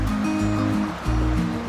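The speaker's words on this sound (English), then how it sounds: "This is the river that runs in front of my cabin. The Little Tennessee River." The Little Tennessee River flowing past a cabin, a steady close rush of moving water with churning low-frequency turbulence that rises and dips slightly in waves, with no voices.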